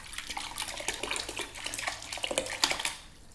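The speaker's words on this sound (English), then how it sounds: "if I turn the pump up, that's going to the full setting." A Freshlife FL3000 sprouter with its pump turned up to the full setting sprays and splashes water, a close, steady watery spatter that fades off at the end.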